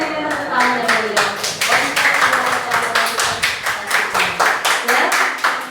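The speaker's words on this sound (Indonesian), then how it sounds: "Kita berikan tepuk tangan yang meriah." A classroom group applauding after a dance performance, a rhythmic burst of clapping with a regular pulse of hand claps repeating about every third of a second, fairly loud and close.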